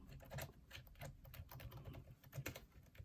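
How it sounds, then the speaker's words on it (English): Rapid typing on a Logitech K780 keyboard, a quiet, close patter of key clicks in uneven bursts with no talking. "I hit 1, and then it's typing"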